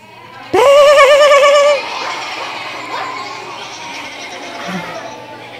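A loud, wavering voice imitates sheep bleating in a drawn-out burst, then fades into a murmur of room noise and quiet voices.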